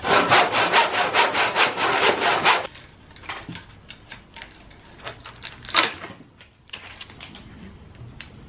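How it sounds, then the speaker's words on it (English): Hand saw cutting through an old-growth lumber board from 1902, a split 12-foot piece. Fast, loud, rhythmic rasping strokes come first, then fainter, scattered scraping and knocks. "So this is a 12 footer that has split at the end. I'm going to cut it right here."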